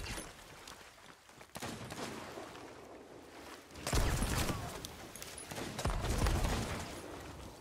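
Gunfire in the Sea of Thieves pirate video game during a player-versus-player fight near a dock: several loud, sharp shot bursts around four and six seconds stand out over a steady background of game ambience and noise.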